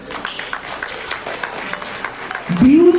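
An audience at a community Durga Puja celebration with a visiting mayor breaks into applause for a sustainable-materials artwork panel; someone speaks over the room first, and then the clapping rises near the end, short and fairly loud.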